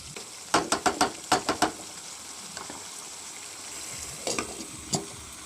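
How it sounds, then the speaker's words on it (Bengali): Pointed gourd and potato fry with spices and a little water in a pan, stirred with a rapid run of sharp scraping strokes, then a softer sizzle and a few more scrapes later on. "এখন একটু জল দিয়ে ভালো করে খুব ভালো করে কষাবো"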